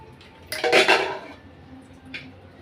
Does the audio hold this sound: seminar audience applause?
no